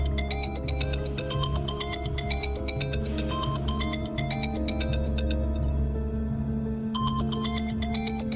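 A telephone rings steadily for several seconds in a dramatic scene, a bright repeating electronic trill over a low sustained music bed, briefly pausing near the end before resuming, with no voices.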